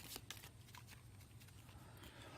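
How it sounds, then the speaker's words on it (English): A small deck of game cards is shuffled close by, producing a quick burst of soft riffling flutters and slaps, quiet and without talk. "It is a fairly small deck, but we shuffle these up"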